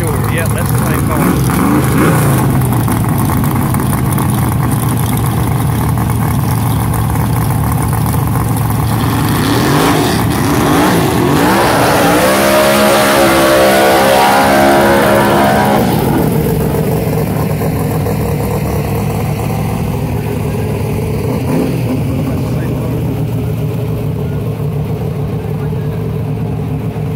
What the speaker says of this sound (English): A good old smoky burnout.